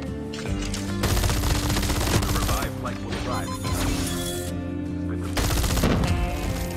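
Rapid bursts of light automatic rifle fire in Call of Duty, loud and dense, with short breaks between volleys.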